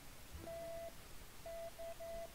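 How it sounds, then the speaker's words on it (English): Thin electronic buzzing tones in Pokémon Super Mystery Dungeon, a soft steady note sounding once, then three short repeats after a pause, faint over quiet background. "What was that buzzing?"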